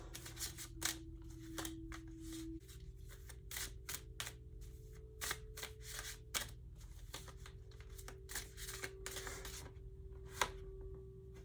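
Tarot cards shuffled and handled in a steady run of crisp, close snaps and flicks over a faint steady hum, with no talking.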